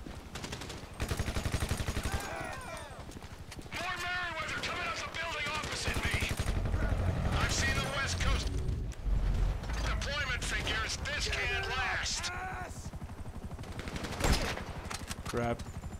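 Gunfire rings out in GTA 5 as rapid bursts of shots crackle throughout, with a few louder blasts, under the frequent shouting and talking of game characters.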